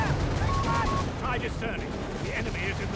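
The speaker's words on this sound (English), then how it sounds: "A lot of bazooka fire here, and of course other kinds of fire being directed at the" Bazooka blasts and gunfire in Company of Heroes 3, a steady dense clatter of battle sounds with a busy mix of effects, while a voice talks over the fighting.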